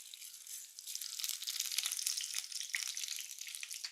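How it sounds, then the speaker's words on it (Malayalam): Mustard seeds crackle and pop in hot oil, a dense, continuous sputtering with sharp little bursts throughout, close by and fairly quiet. "കടുകൊക്കെ നന്നായിട്ട് പൊട്ടി വന്നു"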